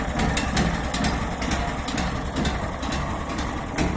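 The petrol engine of a MAST Gartentechnik GS1500 garden shredder runs steadily at a rough idle, a loud, continuous low rumble with a little clatter and no one talking over it.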